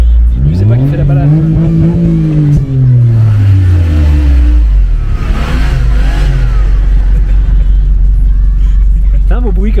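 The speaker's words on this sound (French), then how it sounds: "C'est un beau bruit quand même hein, pour un 6 cylindres." A six-cylinder car engine revs hard from close by, rising in pitch then falling away over several seconds before settling into a loud rumbling drone, with voices underneath.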